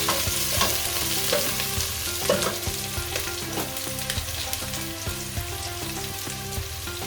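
Chopped onion and whole cumin seeds fry in hot oil for a mutton bhuna, a steady close sizzle broken by scattered clicks and scrapes of stirring.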